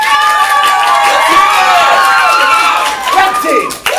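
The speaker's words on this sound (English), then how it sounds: "I want you to applaud for the team you want to win" A comedy-show audience at a ComedySportz match cheers, shouts and claps for the blue team, a loud dense crowd roar with many overlapping voices that dips briefly near the end.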